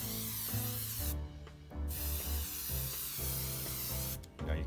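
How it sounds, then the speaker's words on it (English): An airbrush spraying Mission Models flat clear coat from a distance gives a close, continuous hiss that stops briefly twice, then resumes, with no talking. "you want to spray it on at a distance and you want to cloud it on"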